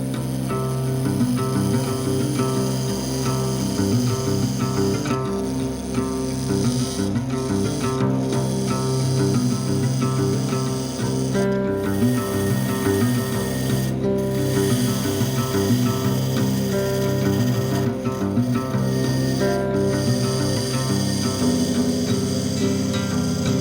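Wood lathe spinning a hexagonal platter of scrap wood and resin, a steady loud motor hum with harmonic drone and faint scraping, continuous throughout with no talking.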